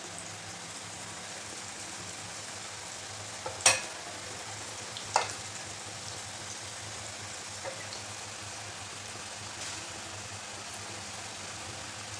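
Boondi batter of gram flour dropped bit by bit into hot oil, frying with a soft, steady sizzle and crackle that runs throughout, fairly quiet, with a couple of sharper clinks from a utensil partway through.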